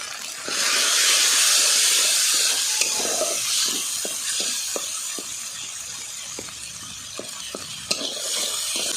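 Spices for a tengra fish curry sizzle loudly in a pan with a bright hiss and a burst of steam, as a spoon stirs with soft intermittent clinks against the metal.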